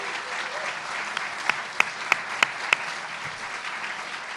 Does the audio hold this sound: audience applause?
yes